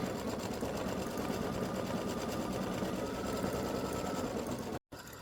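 An embroidery machine sews a free-standing lace butterfly design in a fast, steady, rhythmic stitching drone, close and continuous, with a short dropout near the end.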